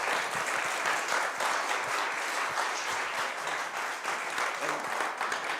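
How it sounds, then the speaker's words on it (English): Audience at a natural history institute talk applauding a presenter, a steady, dense round of clapping from a seated crowd with a few faint voices mixed in. "Let's give David a round of applause, please."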